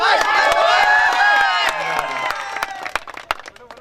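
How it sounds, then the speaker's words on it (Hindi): At a tennis ball cricket championship final, a crowd cheers and shouts loudly with sharp, scattered claps, the voices fading after a couple of seconds into sparser, irregular clapping. "एक सेकंड जोरदार ताली हो जाए"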